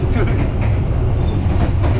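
A passenger train runs steadily on its tracks, a loud continuous rumble with rhythmic rail clatter heard from on board, voices faintly mixed in.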